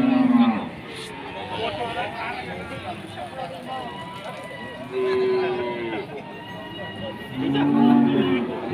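Limousin cattle low repeatedly at a cattle market in Pati, several loud moos at the start, middle and end over busy crowd noise, with someone talking throughout.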